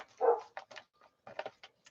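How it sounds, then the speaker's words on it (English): Several dogs bark and whimper close by in quick bursts: a strong bark followed by short yips and whines, separated by brief pauses. "Oh, my goodness, these dogs."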